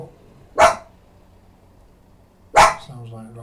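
Roxy the dog lets out two sharp, loud barks about two seconds apart, close by, at someone outside, with quiet between them and no talking.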